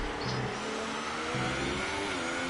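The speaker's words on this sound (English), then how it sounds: "these guys revving in first gear." F1 2018 racing game cars rev their engines in first gear, a steady dense engine drone with rising and falling harmonic whine held continuously at moderate level.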